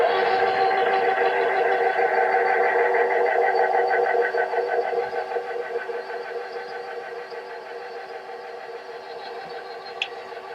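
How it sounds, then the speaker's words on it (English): A pasta machine rolls fondant for cake decorating, a steady mechanical whir with a fast regular ticking rhythm that slowly fades a little, heard alone. "So I'm going to place it in the pasta machine level 1 first."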